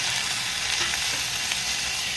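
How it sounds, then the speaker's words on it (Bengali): Tomato frying with garlic in a pan gives a dense, loud, continuous sizzling hiss, close and unbroken for a couple of seconds. "টমেটোটা দিয়ে কিছুক্ষণ একসঙ্গে ভেজে নেবো"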